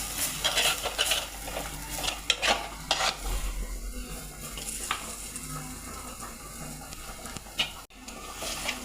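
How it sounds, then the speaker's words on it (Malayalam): Masala paste fries in oil in a pan for fish curry, a continuous sizzle broken by repeated scraping and clinking strokes of a spoon stirring it, heard close with no talking. "അത് നല്ലപോലെ ഒന്ന് മൂപ്പട്ടെ."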